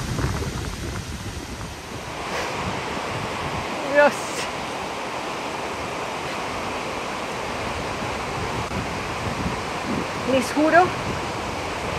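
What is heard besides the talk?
waterfall on the Parguaza river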